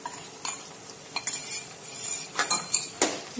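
A spoon scrapes and clinks in a pan while a spice mix is stirred into a guar (cluster bean) and potato curry, with soft repeated stirring strokes up close and no talk.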